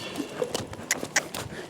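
A horse trots in a riding arena with another horse nearby, its hooves clip-clopping in an uneven rhythm at moderate distance.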